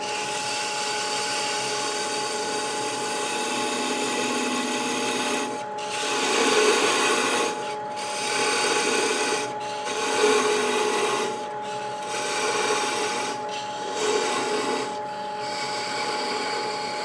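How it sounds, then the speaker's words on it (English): A thin parting tool cuts into a spinning wooden snowman ornament on a woodturning lathe, giving a steady scraping hiss that swells into several louder rasping bursts in an uneven rhythm, close and continuous with no talking. "I'm going to go ahead and part this off. Thin parting tool."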